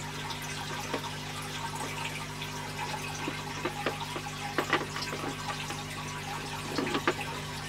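Water from a tropical fish tank siphoned through a tube into a pot, a soft continuous trickle with small drips and splashes over a low steady hum.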